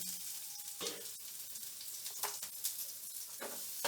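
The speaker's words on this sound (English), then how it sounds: "I am going to add a little bit oil in the pan because I have to fry the onions." Red onion frying in oil in a pan, a steady close sizzle with soft stirring scrapes and light clicks running through it, no voices.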